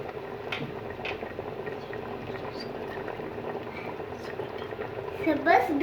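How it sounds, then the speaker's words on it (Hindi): Chana gosht, a chickpea and mutton curry seasoned with dried fenugreek and garam masala, sizzles and bubbles steadily in the pan as it is sautéed, with a brief louder stirring scrape near the end. "अब हम इसको अच्छी तरह भून लेंगे"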